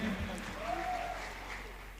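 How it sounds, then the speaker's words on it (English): Applause at a media awards ceremony, a broad steady wash of clapping from the audience for a band, with a voice and a brief tone sounding over it. "Please, a round of applause for him."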